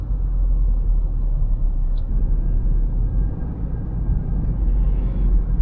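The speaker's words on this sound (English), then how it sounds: "Stuck in traffic again." Road traffic from a car stuck in a jam: a steady low rumble of engines and tyres heard from inside the vehicle, continuous and muffled, with no talk.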